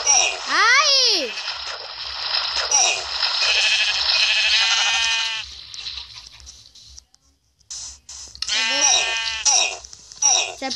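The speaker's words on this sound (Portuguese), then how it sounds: "Achei a ovelha, vou matar ela." Sheep in Minecraft bleat several times in wavering, warbling cries, close and fairly loud, with a gap of near silence between the calls.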